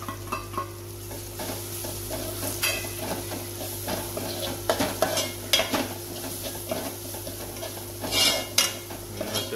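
Whole masala roasting and being stirred in a pan for Goan-style clam (tisreo) sukka, a steady dry sizzle with scraping spoon strokes and occasional clinks of metal, close and continuous with no talk.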